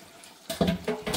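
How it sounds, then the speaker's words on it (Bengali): Running water at a kitchen sink while dishes are washed by hand, a steady close splash that starts abruptly partway through and swells in short uneven bursts, with no talking. "সাথে সাথে বাসন মেজে নিই।"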